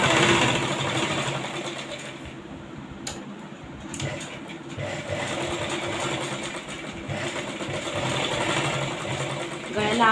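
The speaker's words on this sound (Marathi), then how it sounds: "गळ्याला आकार देताना एकदम हळू व्यवस्थित शिलाई करून घ्यायची तिथून" A sewing machine stitches a lined four-tuck blouse at the neckline, a steady close mechanical whir that pauses briefly around three seconds and resumes, with a voice speaking over part of it.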